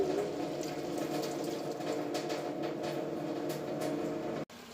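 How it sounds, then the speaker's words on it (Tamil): Water poured into a pot of cooking spinach for a South Indian keerai kadayal, giving a steady splashing, trickling flow that runs close and continuous, then cuts off abruptly near the end. "கொஞ்சமாக தண்ணி ஊற்றிக்கலாம்."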